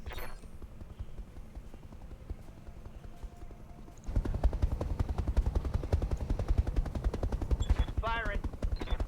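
Mech weapons firing in the BattleTech video game, a quiet mechanical rattle that jumps into a dense rapid burst of repeated clattering shots with a whirring sweep near the end.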